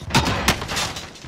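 Two quick close gunshots crack out in a video game within about a second, followed by a rumbling tail.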